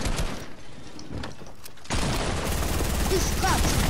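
Rapid SMG gunfire spraying in an arena video game: dense, continuous crackling bursts that grow louder and fuller midway, with faint voices underneath.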